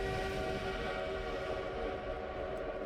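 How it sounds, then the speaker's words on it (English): Train horn sounding as a steady, loud, sustained blast with dense layered tones over rumbling rail noise, part of a Polar Express emergency alert scenario; no talking. "How would anyone find the train horn disturbing?"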